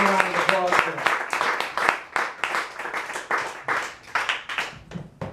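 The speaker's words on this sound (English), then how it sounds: "give a round of applause" An audience at a poetry salon during the AWP literary conference gives a round of applause: a burst of claps that thins into scattered, fading individual claps as a voice trails off at the start.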